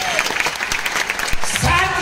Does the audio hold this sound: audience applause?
yes